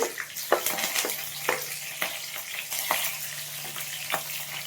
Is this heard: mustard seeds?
yes